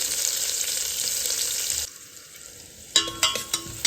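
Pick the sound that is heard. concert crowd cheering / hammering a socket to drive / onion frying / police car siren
onion frying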